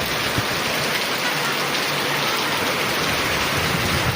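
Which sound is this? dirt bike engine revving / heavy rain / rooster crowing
heavy rain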